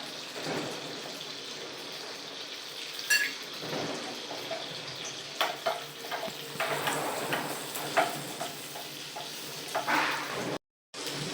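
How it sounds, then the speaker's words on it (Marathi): Garlic sautés in butter in a small tadka pan, a continuous crackling sizzle broken by scattered stirring scrapes and clinks, with a short break near the end. "तडका पॅनमध्ये बटर घेतला आहे त्यामध्ये लसूण टाकायचा"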